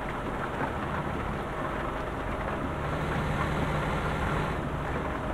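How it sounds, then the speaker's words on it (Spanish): Steady rain pours in the Euro Truck Simulator 2 driving game, a dense unbroken hiss with low rumble beneath, constant and fairly loud throughout with no talking. "Y lloviendo."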